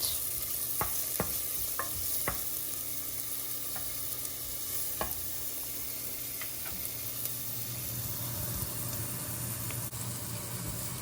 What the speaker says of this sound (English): I'm just going to stir the shallots and the garlic and cook until it changes color and starts to smell really fragrant